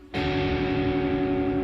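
A sustained electric guitar major chord rings out with slightly sour, wavering intonation from strings pressed too hard, strummed once and left to sustain steadily.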